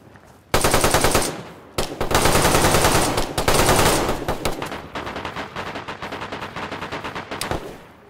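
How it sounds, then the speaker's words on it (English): Rapid automatic gunfire in the video game DayZ, loud close bursts of many shots in quick succession with brief pauses between, ending in sparser single shots. "I just shot at you, Sentinel."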